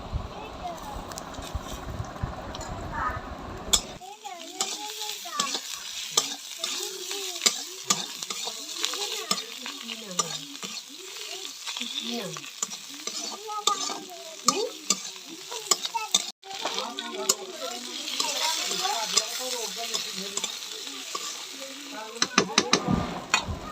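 Goat fat sizzles loudly in a hot pan as it is stirred with a spatula, giving constant frying crackle and repeated scraping strokes, with a brief gap of quieter sound before the sizzle begins.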